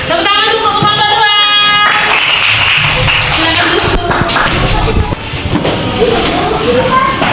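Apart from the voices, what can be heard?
clapping for group 2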